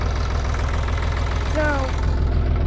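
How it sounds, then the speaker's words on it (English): A backhoe engine idles steadily at close range beside a garden plot, a constant low rumble with a brief higher whine partway through. "There's the backhoe that we've been using"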